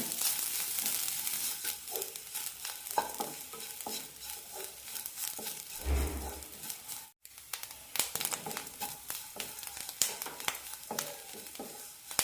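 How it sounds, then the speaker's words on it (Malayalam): Grated coconut and curry leaves frying and being stirred in a pan while making sambar, with a steady close sizzle, scraping stir strokes and a brief dip near the middle, and no talking. "കുറച്ച് കറിവേപ്പില തേങ്ങയ്ക്ക് ചെറുതായൊരു ചുവന്ന കളർ വന്നാൽ മതി"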